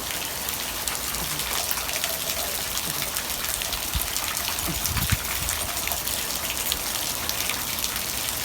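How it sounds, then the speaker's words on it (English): A tiny waterfall gushes steadily nearby with a constant splashing, rain-like hiss, along with a few brief thumps and splashes, with no one talking. "This is a tiny waterfall."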